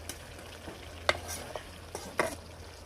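A pan of spiced meat and potatoes is turned over and stirred, with several scraping strokes and clinks of the spoon against the pan over a soft, continuous sizzle.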